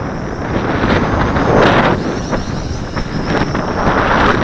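Strong gusting wind roars steadily across an outdoor microphone while a small MJX X400 drone flies on a windy day, loud broadband buffeting that swells and eases without a break.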